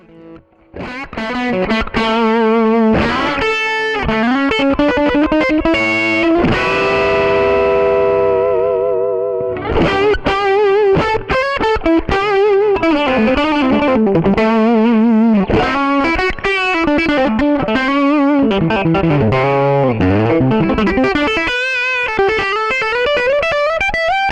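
Heavily distorted electric guitar playing a continuous melodic line with bends and sustained notes, loud and upfront with effects-laden tone, no voices.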